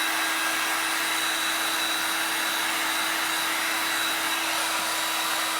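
A heat gun blows steadily and close up while heating a piece of bendy wood to soften it, making a continuous, even airy roar with a fixed motor hum that runs unbroken and alone the whole time.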